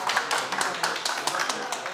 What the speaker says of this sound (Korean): 우창 작가님께 박수 부탁드립니다